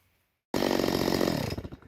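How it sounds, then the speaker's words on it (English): A chainsaw cuts low into a stump near the dirt, starting abruptly after a half-second of silence and roaring loud and close with a steady buzzing drone before easing off near the end. "Try and keep the chainsaw out of the dirt as much as possible."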